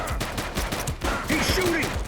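Rapid bursts of gunfire in the 1980s police video game The Precinct, a dense crackling fusillade with shouted voices over it near the end.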